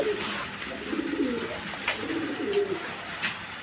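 Pigeons being kept for sale coo in low, repeated rolling phrases with a few soft bird calls mixed in, fairly close and moderately loud, with no voices.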